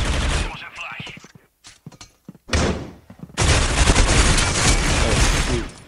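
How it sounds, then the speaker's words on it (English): Gunfire from the Critical Ops first-person shooter game: loud, close bursts of rapid shots and sharp impacts that break off into a pause and then resume as a sustained barrage. "I don't think that's wall bangable, but I decided to shoot it anyway"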